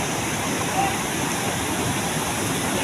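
Steady, dense roar of rushing water from the Jambhali waterfall in Korchi taluka, nearby, filling the whole clip at a constant level.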